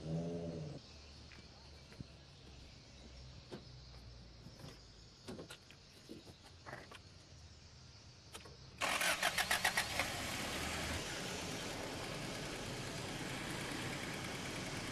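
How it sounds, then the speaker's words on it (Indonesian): A van's engine cranks and catches, then runs loudly and steadily in the background; the van has a faulty radiator motor. "Boleh tolong start van ni, tak?"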